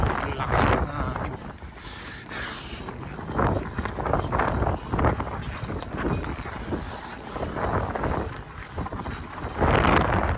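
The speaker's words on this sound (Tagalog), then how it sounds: "wow, ang lakas ng hangin." Strong wind gusts during a snowstorm in Canada roar across the microphone in steady broadband buffeting, swelling and easing in waves over the whole stretch, with no talk.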